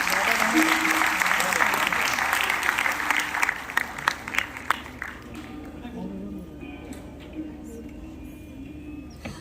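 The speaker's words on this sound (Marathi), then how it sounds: "एकदा टाळ्यांचा कडकडाट व्हायला हवा" An audience applauds at an award ceremony, dense loud clapping that thins into scattered claps and fades, with voices over it.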